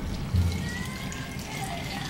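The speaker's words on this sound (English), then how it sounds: "then you're going to pour your milk and" Milk and chicken stock being poured into a bowl of chicken and dumpling mix, a quiet, steady trickle of liquid lasting a couple of seconds.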